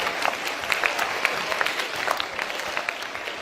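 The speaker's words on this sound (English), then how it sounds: "Can you all give them a big round of applause?" An audience at a school dance competition gives a round of applause: dense, steady clapping from many hands throughout.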